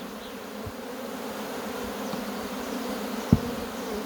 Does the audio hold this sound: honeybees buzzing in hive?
yes